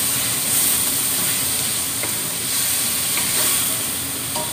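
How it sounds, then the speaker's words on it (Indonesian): Meat stirred in a hot frying pan with sugar for a Hong Kong-style dish, giving a steady close sizzle and hiss with faint scraping, no voices. "Saya aduk-aduk."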